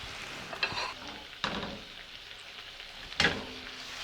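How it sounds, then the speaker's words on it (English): Vegetables sizzle in a pan as a coconut teriyaki glaze cooks onto them: a constant moderate hiss broken by three sharp spatula scrapes and stirs, with no talking. "We're just gonna glaze the vegetables."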